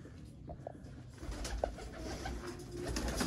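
Black teddy pigeons coo on a rooftop loft in Rawalpindi at dawn, with soft repeated cooing over a steady outdoor background hum that grows louder midway.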